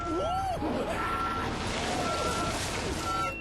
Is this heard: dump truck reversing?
yes